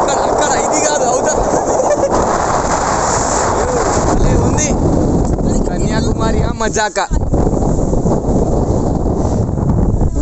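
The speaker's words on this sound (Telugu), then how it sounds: "ఓ గాలి గాలి గాలి, ఇంత గాలి గాలి" Strong wind buffets the microphone at the seashore of Kanyakumari, Cape Comorin, a loud continuous roar with surf and a steady whoosh throughout, while people talk over it.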